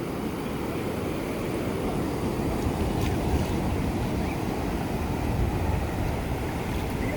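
A steady, loud roar of surf washing onto Nansha Beach, China, continuous throughout, with wind buffeting the microphone.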